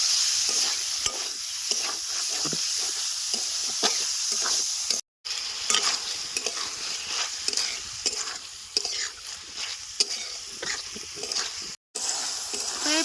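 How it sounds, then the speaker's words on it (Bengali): Boneless chicken pieces are stir-fried with spice paste in a village kitchen for chicken pasta, a continuous close sizzle with repeated rhythmic scrapes and stirs of a spatula, briefly cut off twice. "মাংসটা এবার ভালো মতো কষায় নেবো মশলার সাথে"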